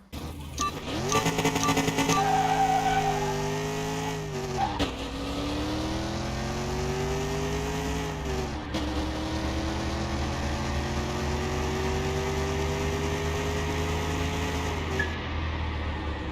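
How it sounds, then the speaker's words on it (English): A car with a non-supercharged LS V8 in a Car Mechanic Simulator 2021 test run revs up loudly and holds a steady, sustained engine drone, with its pitch climbing and dipping through several gear changes over about sixteen seconds. "So it's got that LS engine in there, non-supercharged, I might add."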